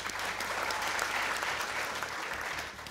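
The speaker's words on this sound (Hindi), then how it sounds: "ज़ेबा बख्तियार के लिए तालियां होनी चाहिए" A studio audience applauds on a cricket talk show, giving a steady, continuous wash of clapping that holds at an even level throughout, heard a little distantly.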